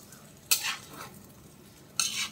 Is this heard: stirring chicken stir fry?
yes